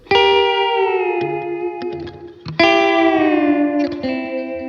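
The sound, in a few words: electric guitar string bend with effects, pedal steel like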